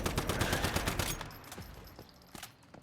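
Rapid automatic fire from a main weapon in the video game Once Human rattles in a dense, loud burst, then thins out into a few scattered shots as the volume drops.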